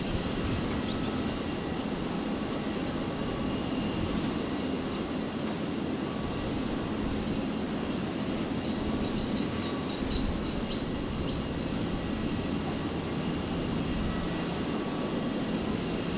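A Virgin Australia Boeing 737-800 from Launceston arrives onto runway 01 right at Brisbane, its engines a steady, moderate drone heard from some distance, with faint bird chirps partway through.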